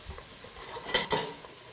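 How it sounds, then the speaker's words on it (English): Onions sweating in melted butter in a pan, a soft low sizzle with a couple of sharper spoon scrapes as they are stirred, close and fairly quiet, no talking. "I'm sweating the onions, which means I'm getting them to be translucent"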